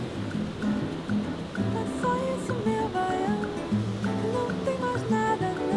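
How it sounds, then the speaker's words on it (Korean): Ocean waves at Bondi Beach roll in from the South Pacific, a steady, loud wash of surf that swells and breaks continuously, with no voices over it. "남태평양으로부터 밀려오는 높은 파도 덕분에 본다이는 젊은이들이 바람과 파도를 벗삼아 서핑을 즐기는 곳으로도 유명하다"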